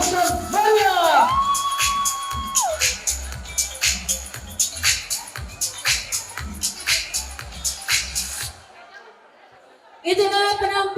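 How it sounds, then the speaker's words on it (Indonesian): Audience at a batik fashion show at Garut Festival, reacting with rhythmic clapping, cheers and whoops amid crowd chatter, while an announcer speaks over a loudspeaker; the noise drops away briefly before resuming. "Berikan aplaus yang banyak."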